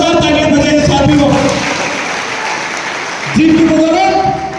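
Enthusiastic audience applause at a political rally, a steady wash of clapping that swells in the middle while someone speaks through a loudspeaker at the start and end.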